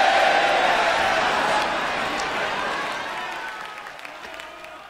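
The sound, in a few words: crowd applauding in the video game Idol Manager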